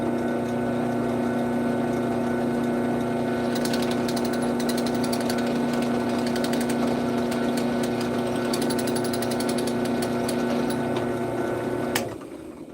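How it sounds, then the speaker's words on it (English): A power drill bores into a PC case during a case mod, a loud steady motor whine with rattling grinding bursts, running continuously before cutting off near the end. "I'm gonna have to drill a smaller hole first"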